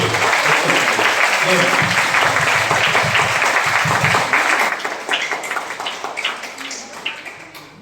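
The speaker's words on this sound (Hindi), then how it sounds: "एक बार जोरदार ताली" An audience at a classroom lecture claps in a loud, dense round of applause that fills the room, then thins out and fades to scattered claps over the last few seconds.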